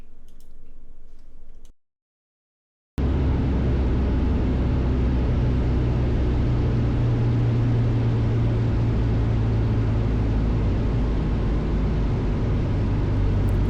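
A Decathlon light airplane's engine drones steadily inside the cockpit in flight, a loud unbroken hum with a low tonal whine. It starts after a short gap of silence and runs without talk.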